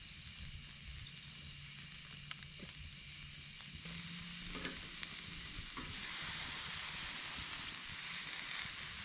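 Salt-packed gar fish cooks over direct campfire heat at night beside the White River in Indiana, giving a soft, steady sizzle that grows brighter and louder partway through, with faint crackles and occasional knocks.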